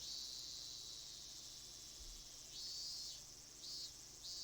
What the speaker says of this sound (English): The sound of cicadas soaked into his body.